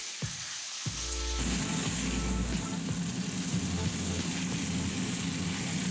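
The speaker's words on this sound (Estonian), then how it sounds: "Maksa pruunistamisel tuleb kindlasti jälgida, et teda liiga ära ei pruunita" Liver browning in a pan gives a steady, close sizzle and frying hiss that runs throughout, with a low rumble underneath.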